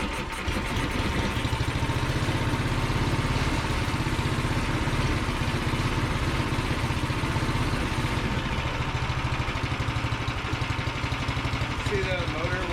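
A Toro Dingo 420 compact utility loader's small engine runs steadily at idle, a continuous loud mechanical chug that holds throughout with a slight drop near the end.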